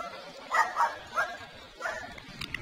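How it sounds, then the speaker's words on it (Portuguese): Dogs barking at a passing bicycle on a Saturday afternoon ride, a few short yaps and woofs in quick bursts at moderate distance, with light background noise. "Passei os cachorros de novo ali."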